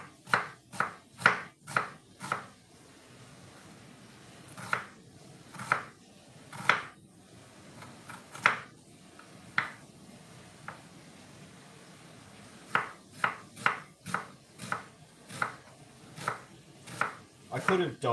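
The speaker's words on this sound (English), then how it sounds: "the onion halves are going to be too long, but if I cut this way, they're going to be slightly thinner" A knife chops onion halves on a cutting board in sharp, close knocks, coming in quick irregular bursts with short pauses between runs of cuts.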